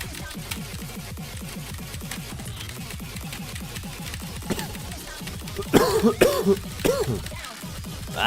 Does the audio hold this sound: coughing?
yes